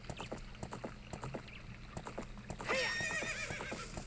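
Epona the horse galloping in the video game Zelda: Ocarina of Time near a lake, with a steady patter of hoofbeats and then a bright, wavering whinny ringing out over the game's ambient background.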